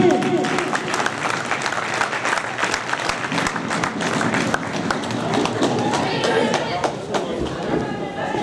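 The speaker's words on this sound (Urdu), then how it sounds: "بھرپور تالیوں میں استقبال کریں عرفان شاہین" Loud, sustained applause from a large audience at an indoor community programme greets an honoured guest, a thick crowd of clapping hands filling the room with chatter and a voice mixed in.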